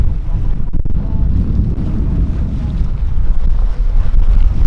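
A boat churns steadily across open water, with wind buffeting the microphone and a constant low rumble of motor and splashing throughout.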